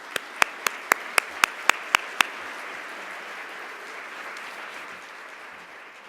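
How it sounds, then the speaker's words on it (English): Nine sharp, evenly spaced hand claps ring out at a speakers' event on profits and social responsibility, then give way to a soft room hush with faint murmuring. "Let's give our speakers a warm round of applause."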